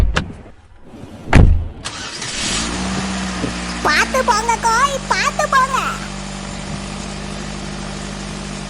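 A cartoon car door thuds shut, then the engine starts and idles with a steady low rumble as the car pulls away, while a voice speaks briefly over it.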